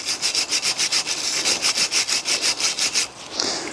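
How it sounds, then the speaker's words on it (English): A wire brush scrubs a rear brake caliper bracket on a BMW F20/F21 1 Series in quick, rhythmic back-and-forth strokes, about a dozen rasping passes close up, then a brief scrape. "So again, just use a wire brush."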